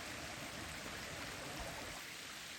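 Steady rushing water from a stream beside a trail, a soft, even broadband hiss that stays constant and distant-sounding, with no voices.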